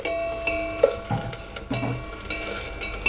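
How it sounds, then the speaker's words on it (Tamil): Crushed pepper spices and a pinch of asafoetida sauté in oil for milagu rasam, a soft sizzle under a few scattered spoon scrapes and clinks, close and fairly quiet, no voices. "ஆட் பண்ணி நல்லா இந்த எண்ணெயில் வதக்கிக்கோங்க"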